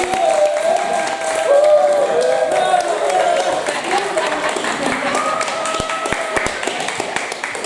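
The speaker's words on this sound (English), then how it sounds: "So can I have a round of applause for Judith Jacobs?" A round of clapping and cheering from an adult drama class greets tutor Judith Jacobs, a steady burst of many hands with voices mixed through it, holding at an even level for several seconds.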